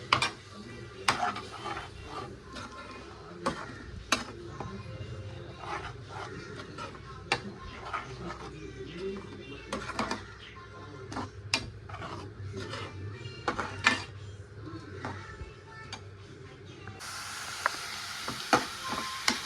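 Goat blood fry cooking in a pan, with faint sizzling and scattered scrapes of a spoon stirring the mixture, fairly quiet and continuous, with a brief louder hiss near the end.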